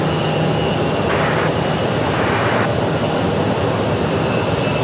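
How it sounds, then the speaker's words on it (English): An American Eagle airliner at Phoenix Sky Harbor Airport gives a steady, loud engine roar throughout, heard at a moderate distance with a broad hum and a whine over it, and no talking. "An American Eagle making its way."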